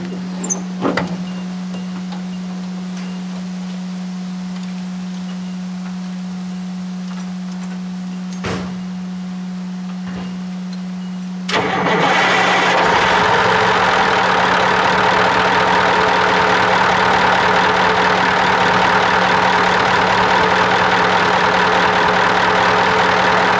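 A Ford LNT9000 truck's Cummins V8 diesel engine cranks and then starts. A low, steady hum gives way midway to a loud, rough running roar that carries on to the end.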